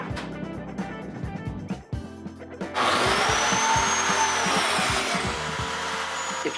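A biscuit joiner cuts slots in walnut and purpleheart boards, with a brief spin-up and cut, then a sustained high-pitched power-tool whine ending in a loud continuous cut near the mic.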